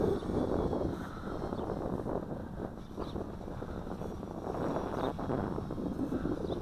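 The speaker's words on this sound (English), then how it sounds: "that wind is really picking up" Wind blowing during a test flight of an FQ777 951C camera drone, a steady low rushing buffet on the microphone that swells and eases throughout.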